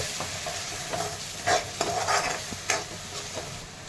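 Tomato, green chili, garlic, ginger and coconut fry in a pan for chana masala, a steady close sizzle broken by several scrapes and stirring knocks, no voices.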